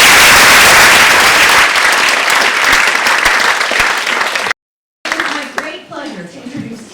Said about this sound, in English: So we will be clapping for our Free Minds members many times tonight